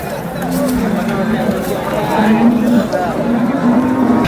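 Cows moo repeatedly in long, low calls over a busy outdoor crowd with people chattering nearby at a cattle market in Sangola.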